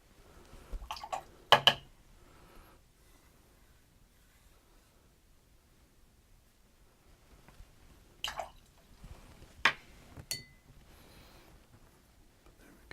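Paintbrush rinsed in a jar of clear water during a painting session: a few brief sloshing, clinking taps near the start and again later, separated by quiet stretches, close and fairly soft.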